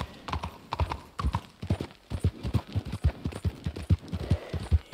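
Rapid clip-clop of horse hooves galloping in a steady rhythm, crisp and close, with game-like sound effects, in Red Dead Online.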